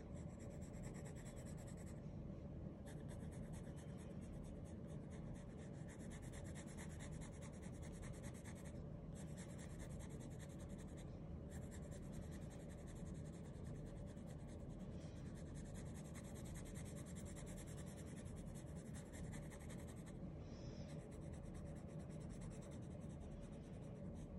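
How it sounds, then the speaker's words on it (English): Graphite pencil shading on paper with the side of the lead, a soft continuous scratchy rubbing in close, quiet strokes with brief pauses and no talk. "So I can use the side of my pencil for doing large areas"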